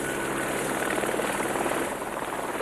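A mountain rescue helicopter carrying an avalanche search dog drones steadily and loudly, its rotor chop and engine roar filling the whole clip without a break.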